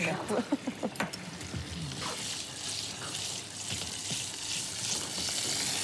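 Anchovies sizzle in hot oil with a steady, soft crackling hiss, while a person talks over the sound near the start.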